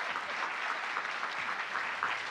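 Steady, even applause from a seated audience at a conference breakfast, sustained at moderate level for a couple of seconds with no voices over it.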